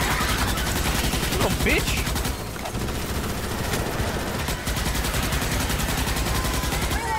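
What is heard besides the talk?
gunfire in Starship Troopers Extermination video game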